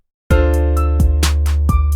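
Clap sample in FL Studio beat software, played at different velocities: a sequence of sharp electronic claps of varying loudness, about six in two seconds, over a sustained synth tone, with no talk.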